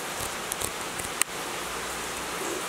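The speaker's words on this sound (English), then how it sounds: "It rained. It's crazy. It coming down too." Rain falls outdoors in a steady, even hiss, with a few sharper drops and taps standing out nearby and no voices.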